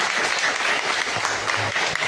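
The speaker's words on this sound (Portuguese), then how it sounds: "Nós dizemos de uma salva de palmas ao Senhor." A church congregation claps together in dense, steady applause at a Portuguese-language worship service, the clapping loud and continuous throughout with no voices on top.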